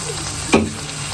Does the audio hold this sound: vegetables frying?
yes